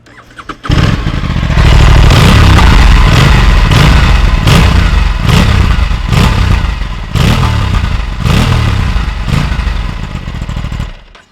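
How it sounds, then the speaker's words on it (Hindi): An Aprilia RS457 twin-cylinder motorcycle fires up and idles loudly up close, its exhaust thumping with a rough, rhythmic beat and periodic blips of throttle, the note running steadily for about ten seconds with no talking. "अब कुछ एग्जॉस्ट है तो एग्जॉस्ट नोट सुनाते हैं"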